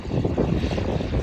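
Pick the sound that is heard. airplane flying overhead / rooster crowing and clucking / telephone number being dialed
airplane flying overhead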